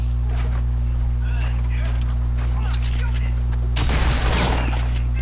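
Assault-rifle gunfire rings out in a first-person shooter video game, with a brief burst of shots near the end over a constant hum, and a player talking over it.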